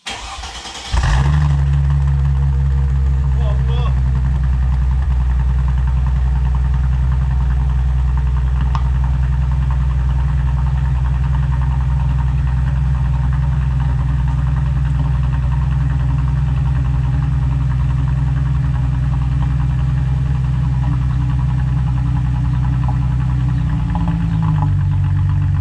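Chrysler Crossfire engine fitted with a Simons aftermarket exhaust starts up, then settles into a loud, deep, steady idle that rumbles on close by and alone for over twenty seconds.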